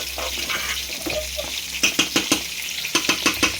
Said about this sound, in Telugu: కారం వేసి కలుపుతున్నాను